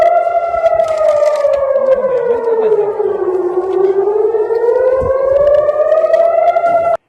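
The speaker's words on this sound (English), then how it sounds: "Everyone lives in preparation for an alert and then into the shelter at the sound of the siren." A wailing air raid siren during the Iran–Israel war rises and falls in a slow, continuous sweep, loud and steady throughout with no voices.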